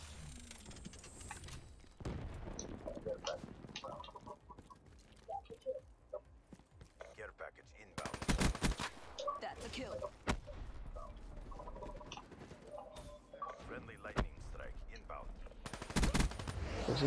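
Gunfire from a gun in Black Ops 3 breaks out in several loud bursts of rapid shots, with a player talking at length between them and over them.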